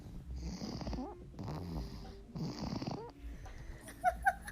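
A child snores loudly in repeated long rasping breaths, three in a row, each with a rough low rumble, followed by a few brief higher squeaky sounds close by.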